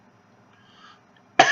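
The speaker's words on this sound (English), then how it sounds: "Man, I'm getting a cough." A single short, sharp cough bursts out after a near-silent pause, close and fairly loud, lasting only a moment.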